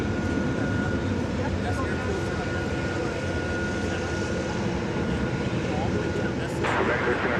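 Boeing 747 jet engines roar at DFW Airport, a steady, loud broadband rumble that fills the whole stretch without letup, with radio chatter faintly underneath.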